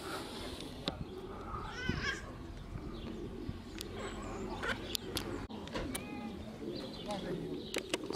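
Racing pigeons arrive at a club loft during a homing race, with soft cooing and occasional wing flaps nearby over outdoor background noise, while people talk quietly throughout.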